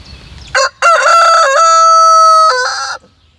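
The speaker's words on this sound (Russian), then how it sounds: "Можно у вас один кукареку для наших зрителей?" A rooster on a rural farmstead crows once, loud and close. A brief opening note is followed by a long, rich, drawn-out call of about two seconds that ends abruptly.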